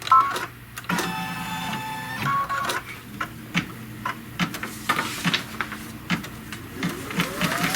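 An embroidery machine stitching a placement line on aqua mesh whirs and taps with a steady rapid mechanical rhythm, close and continuous throughout.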